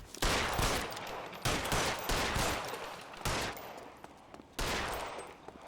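Gunfire in the video game L.A. Noire, loud rapid bursts of shots in about five separate volleys, each starting sharply and trailing off, with no voices over them.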